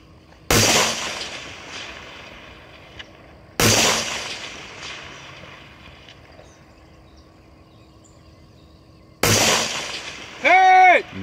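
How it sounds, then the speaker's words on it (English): Three loud gunshots during a long range shooting stage at a match, each a sharp blast with a long rolling echo, spaced several seconds apart, the last followed by a brief whistle or shout. "That was a nice long range shooting."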